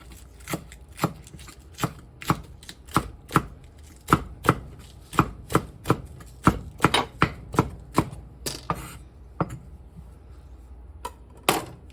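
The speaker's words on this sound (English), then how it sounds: "So I'm going to chop up my green onion." A knife chops green onion on a board in a quick, uneven run of about two dozen crisp, close taps with short pauses between them, and no voice over it.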